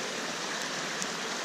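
Small streams along the Appalachian Trail make a steady, close, hissing rush of flowing water with no pauses.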